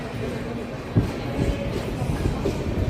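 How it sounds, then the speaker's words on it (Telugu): Kacheguda–Murudeshwar Express passing on the adjacent platform at a station, a steady loud rumble of wheels and carriages with a few rail clanks, continuous throughout. "సో మనకి పక్క ప్లాట్ఫామ్ మీద కాచిగూడ మురుడేశ్వర్ ఎక్స్ప్రెస్ అయితే వెళ్ళిపోతుంది"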